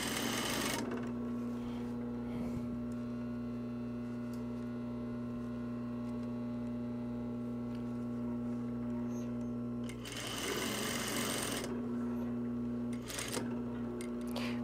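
An industrial sewing machine stitches a quarter-inch seam on a reversible jacket, giving a steady, close mechanical whir with a constant hum throughout and short bursts of faster stitching near the end.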